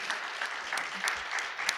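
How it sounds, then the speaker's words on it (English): Audience at an education and extended-reality conference panel clapping for the panelists, a short burst of steady applause from a modest crowd with a faint voice beneath. "A round of applause for our panelists."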